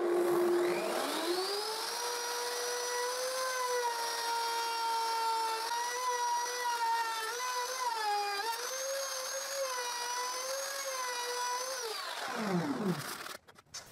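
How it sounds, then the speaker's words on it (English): A router cuts a groove into a clamped plywood piece for a drill press table, a steady high whine spinning up, holding for about ten seconds with slight pitch dips under load, then winding down. "I clamp that piece of plywood and I route it to the depth of cut I have just set in my router"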